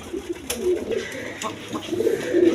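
Pigeons coo at a farm, several soft throaty calls repeating close by against a low background murmur, with no talk.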